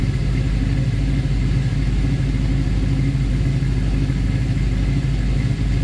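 Loud and near, the 327 V8 in a 1967 Chevrolet Nova idles with a deep, throbbing rumble, steady and unbroken, with no voices over it.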